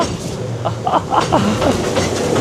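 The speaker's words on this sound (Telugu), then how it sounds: "సూపర్ ఉంది రైడ్ ట్రైన్లో" A train rumbles along steadily with a low, rattling roar through wild forest at Shantytown, New Zealand, and voices can be faintly heard over the noise.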